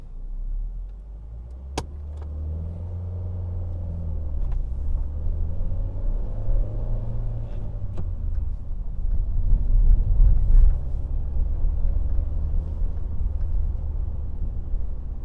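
A car pulls away after a hill start during a mock driving test, low engine rumble building steadily from inside the cabin as it accelerates, with faint clicks and no talking.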